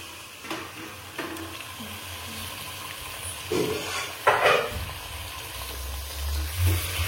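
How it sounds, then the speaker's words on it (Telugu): Marinated chicken frying in a pan with mint, a soft continuous sizzle broken by clinks and stirring scrapes, moderately close and fairly quiet. "మ్యాగ్నేట్ చేసుకున్న చికెన్ వేసుకుందాం."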